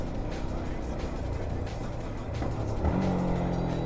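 A motorbike engine idles and revs with rough mechanical texture during a clutchless downshift, moderately loud and close, with a brief pitch jump near the end and no clear speech.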